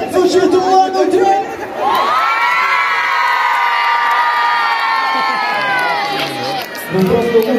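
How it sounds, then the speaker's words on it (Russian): A big outdoor city-day concert crowd in Ulan-Ude roars, shouts and whoops together in one sustained loud burst lasting several seconds, rising sharply after a brief lead-in of a voice and dropping away at the end. "мы будем очень громко, очень мощно кричать и хлопать"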